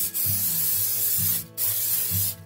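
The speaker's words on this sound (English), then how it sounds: "we always want to give our crock pot a good spray so that nothing sticks" Two long hissing bursts of cooking spray into a slow cooker, close up, separated by a brief pause, with a low hum underneath.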